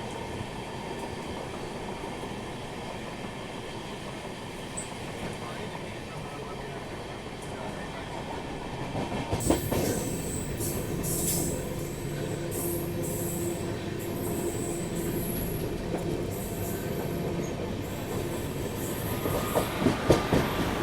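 The Sairang Rajdhani Express runs on rails through Bihar near Lakhisarai Junction, a steady wheel rumble with clatter that grows louder and brighter about halfway through, with faint squeals near the end.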